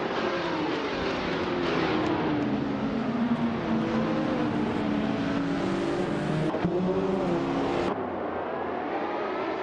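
Race cars, among them a 1971 Ferrari 512M, roar off the line at the start of a video game race on a short track, a loud continuous engine drone with rising and falling revs, no voices.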